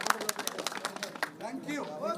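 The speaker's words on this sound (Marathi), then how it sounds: "अरे जोरदार टाळ्या अनिल पाटील सरांसाठी, एकदा जोरदार टाळ्या." A crowd at a national convention of digital media journalists gives scattered, fairly faint applause, with a voice speaking over the claps toward the end.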